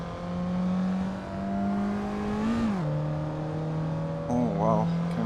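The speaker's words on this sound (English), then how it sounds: "Can really damage the engine with over revving." Suzuki Liana engine in Assetto Corsa on the Top Gear Test Track, revving hard with a steady high drone that dips sharply mid-clip and wavers near the end, with no voices.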